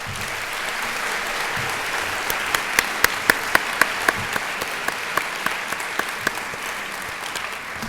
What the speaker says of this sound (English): Let's give a big round of applause to Matt Mason and Matt Madera.